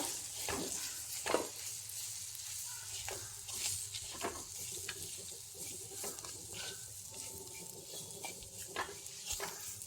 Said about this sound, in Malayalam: ഇനി നമുക്കിതിലേക്ക് സവാള ഒരു വലിയ സവാള അരിഞ്ഞത് ചേർത്ത് കൊടുക്കാം എന്നിട്ട് ഇതൊന്ന് വഴറ്റി കൊടുക്കാം